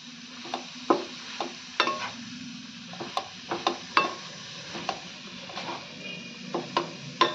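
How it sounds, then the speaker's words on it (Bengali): A spoon stirring cardamom powder into a coconut filling in a pan, irregular scraping and knocking strokes every half second or so over a faint background hiss, close and with no voices. "এই নারকেলের পুরের মধ্যে এখন আমি এলাচ গুঁড়োটা মিশিয়ে দিলাম।"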